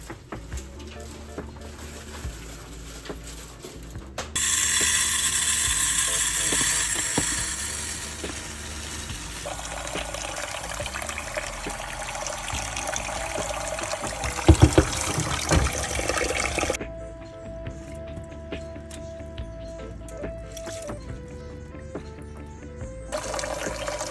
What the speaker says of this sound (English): So now we're washing the rice, everybody.